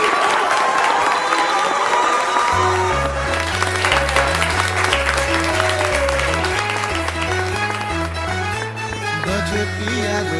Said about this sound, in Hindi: तो जोरदार ताली के साथ स्वागत करी अपना तेज प्रताप भैया के।